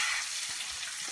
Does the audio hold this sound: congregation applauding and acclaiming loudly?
no